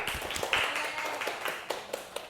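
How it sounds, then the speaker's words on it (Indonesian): Schoolchildren in a classroom lesson clap their hands together, a quiet, loose patter of separate claps with a few sharper slaps standing out, close and uneven over a couple of seconds. "Tepuk tangan untuk kita semua."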